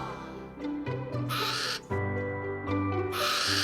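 A burrowing owl calls at close range in a zoo, giving a few raspy, harmonic squeals and hissing screeches in quick succession, with short pauses between calls.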